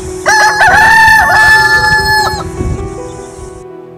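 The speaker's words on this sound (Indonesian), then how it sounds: "Berkokoklah ayam dan larilah Petrus" A rooster crows once, loud and close, one long drawn-out call that holds level and then drops off, with faint background noise after it.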